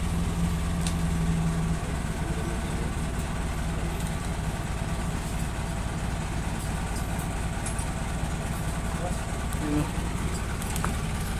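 An old-model Mitsubishi 4D30 diesel engine runs with a steady, loud rumbling idle and a constant clatter, with faint background noise and no clear changes in pace.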